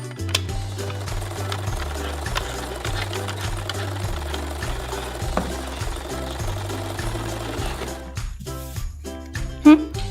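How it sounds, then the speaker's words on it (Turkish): A toy sewing machine whirs and clatters in a steady rhythmic stitching pattern for several seconds, then stops, followed by a faint click. "Neyse ki burada dikiş makinemiz var. Bunu hemen dikeceğim."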